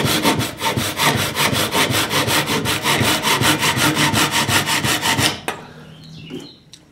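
Handsaw cutting off excess wooden shims on a router sled, a fast, loud, evenly rhythmic back-and-forth rasp lasting about five seconds before stopping abruptly, followed by faint handling noises.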